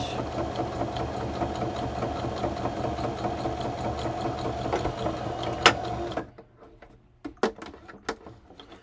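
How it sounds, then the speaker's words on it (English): A sewing machine running a continuous straight stitch down the side of a paper folder, a rapid steady mechanical whirr and clatter for about six seconds, then stopping, followed by a few handling taps. "And I'm going to stitch down that side. I'm just using a straight stitch."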